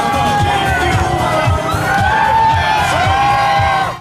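A street crowd gathered outside a concert venue cheers and shouts loudly and continuously at protesters' rickroll, a dense near roar with whoops rising above it.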